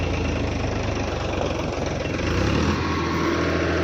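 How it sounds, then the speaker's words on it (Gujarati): Tractor engine running loud and close, a steady low rumbling drone with uneven jolting as the machine jerks along rough, stony ground, no voices over it. "જો ગાઈઝ ટ્રેક્ટર આંચકા મારી જ્યું છે"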